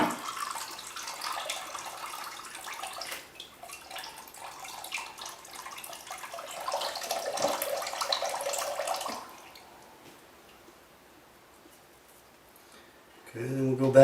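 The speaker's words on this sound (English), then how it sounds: "So just let the water run out." Water runs from a freshly cracked coconut into a bowl, a steady trickling splash that lasts several seconds, swells, then fades to near quiet before a brief knock at the end; a voice talks over part of it.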